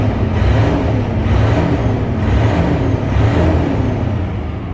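A 2004 Freightliner Century truck engine runs at a steady idle, loud and close, a deep continuous rumble with a slight rhythmic pulsing throughout and no voices.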